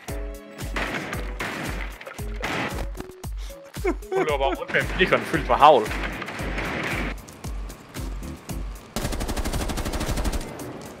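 Rapid bursts of shotgun fire in Rainbow Six Siege crack repeatedly amid music and sound effects, with voices talking over the action.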